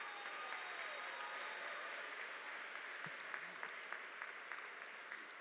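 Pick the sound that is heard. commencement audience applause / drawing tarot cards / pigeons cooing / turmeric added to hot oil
commencement audience applause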